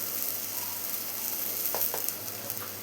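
Chopped tomatoes with coriander powder sauté in a pan for a Kerala-style chicken puttu, a steady close sizzle with a few faint stirring scrapes.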